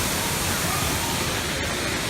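Loud, steady roar of a waterfall close by where people swim, a dense unbroken rush of falling water.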